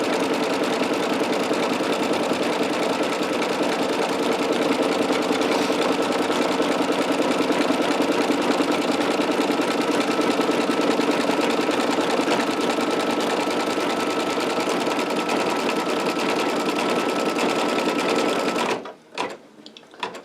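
An embroidery sewing machine stitches a Christmas cracker cover in the hoop with a loud, steady, close mechanical hum and rapid needle chatter that runs unbroken, then stops abruptly near the end with a few handling clicks.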